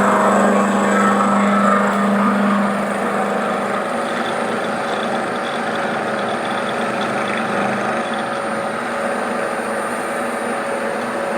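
Milling cutter biting into a bronze cylinder slide valve for a 7.25-inch gauge model locomotive, a steady broadband machining whir with a sustained low hum, louder at first and then settling into a continuous grind.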